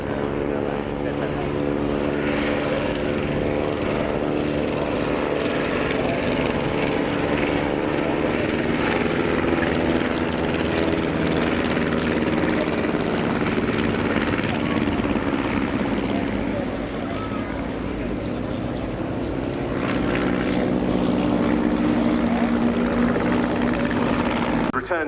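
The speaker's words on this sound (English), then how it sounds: "Final pass from the 4 aircraft of the Bremont Great War Display Team, the 2 SE-5As leading in, the BE-2C and the Avro" Four Great War display aircraft fly a final pass at the RAF Cosford airshow, two SE-5As leading a BE-2C and an Avro. Their piston engines make a loud, steady, throbbing drone that swells near the end, with a voice talking over it.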